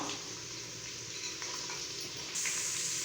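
Chopped carrot pieces sizzling in hot oil in a pan, a steady close frying hiss with faint stirring scrapes, no voices.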